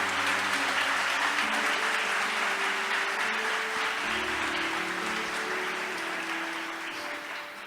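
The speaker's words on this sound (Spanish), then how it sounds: "Alguien dele un fuerte aplauso a Cristo por lo que ha hecho en nuestras vidas." Loud applause fills a church as the congregation claps during a sermon, with organ or keyboard chords sustained underneath and the clapping slowly easing off by the end.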